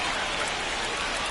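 Steady, dense rain hisses down in the baseball game MLB The Show 25, a continuous even wash of drops with no talking.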